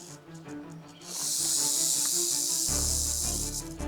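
A loud, steady rattlesnake rattle on Fort Mountain, a dry high-pitched buzzing hiss that starts after a second and continues close by over low rumbling background noise.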